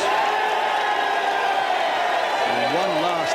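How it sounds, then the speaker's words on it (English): At the Ryder Cup, the gallery of a few thousand around the first tee gives a raucous cheer, a loud, dense wall of crowd noise held steady from start to finish, with a voice talking over it near the end. "And one last raucous cheer"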